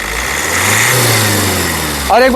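A 2019 Maruti Suzuki Ertiga ZDI Plus diesel engine runs close by with a steady, loud hum that swells slightly as it is revved, before a voice briefly cuts in at the end.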